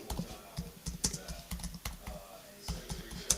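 Fingers tap on a computer keyboard, a close, quiet sequence of irregular clicks and keystrokes with small pauses between them.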